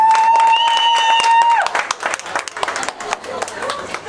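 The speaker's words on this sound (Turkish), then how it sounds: "Alkış!" Audience applause at a Turkish stage show, starting over a sustained held tone and then breaking into scattered, uneven clapping that thins out toward the end, with voices mixed in.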